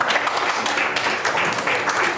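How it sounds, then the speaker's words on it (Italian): Audience applause fills a live Italian stage event, a dense, steady wash of clapping from a crowd for the full two seconds, close and fairly loud. "un applauso a Willy perché prima non l'ha sentito"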